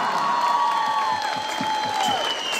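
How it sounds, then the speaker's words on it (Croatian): An audience applauds and cheers for a singer at a Mladenovac municipality day concert, with dense, steady clapping throughout and a held musical tone above it. "molim vas jedan veliki aplauz za njega"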